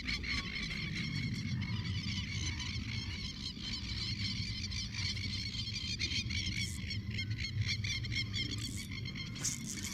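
A noisy chorus of birds calling at a fishing spot, a dense, continuous chatter of overlapping calls that holds steady at moderate volume throughout, with no talking.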